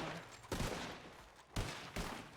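Video game gunfire rings out in three loud, sharp bursts of rapid shots, each quickly fading into a low rumble, with no voices.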